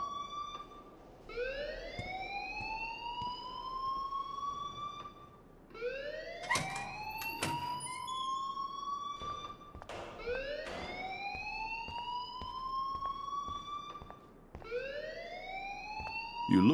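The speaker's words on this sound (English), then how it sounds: "please turn off that alarm since that's your job" A siren-like alarm in the video game Life is Strange wails in repeated rising sweeps, about four long cycles, steady and moderately loud with no talk.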